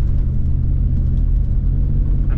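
A 2008 Lexus GX470 SUV, not aired down, runs over a rough gravel road with a loud, constant low rumble and engine drone heard from inside the cabin, without talk.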